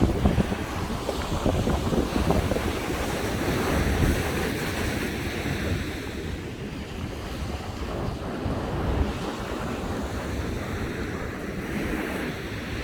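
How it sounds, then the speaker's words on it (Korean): Strong winter surf and heavy wind at Iho Tewoo beach on Jeju Island, a continuous loud wash of breaking waves with gusting wind buffeting the microphone, no voices. "생각보다 파도가 너울이 세네요. 너울이 넓고 바람이 지금 굉장히 많이 불어서"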